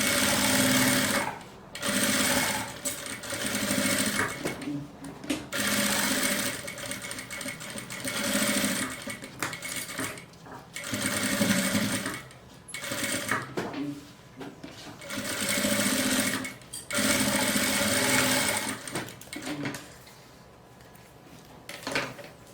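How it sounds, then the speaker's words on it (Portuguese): Domestic sewing machine stitching the edge of a fabric pouch, heard as close, rapid mechanical bursts that start and stop repeatedly, separated by brief pauses. "vou costurar. Costurinha na pontinha."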